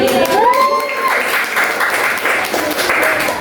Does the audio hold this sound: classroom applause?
yes